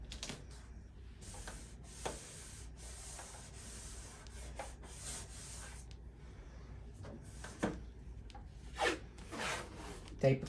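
Tape dragged and pressed across paper while building a landscape artwork, a run of close, soft rasping and zipping strokes with short pauses that grow louder toward the end.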